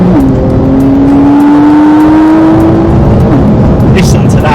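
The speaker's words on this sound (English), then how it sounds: "there's that fabulous flat six engine, which really is the hallmark of or one of the hallmarks of a Porsche 911, slung over the rear axle" A turbocharged flat-six engine in a 2020 Porsche 911 (992) Carrera 4S, mounted over the rear axle, pulls hard under acceleration with a steady rising drone and a gear change midway, loud and close, with a voice talking over it.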